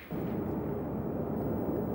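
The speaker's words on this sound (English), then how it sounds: "Here's another phreatic explosion." A phreatic volcanic explosion, with water driven into the volcanic system, erupts as a sudden deep burst swelling into a sustained broad roaring rumble that holds at steady loudness.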